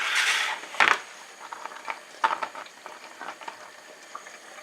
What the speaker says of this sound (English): I'm gonna let this simmer for like another 20 minutes, but I'll put it on the lowest temperature